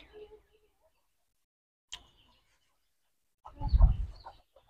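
A short burst of local chickens clucking close by in a duck and chicken house near the end, after a brief sharp knock and faint earlier sounds, otherwise quiet.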